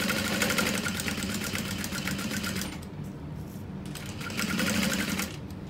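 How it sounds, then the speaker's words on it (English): A sewing machine runs steady topstitching along the bottom edge of a fabric wristlet wallet, a fast continuous needle rattle that pauses briefly midway and then resumes, close and loud. "And then we're gonna top stitch along the bottom."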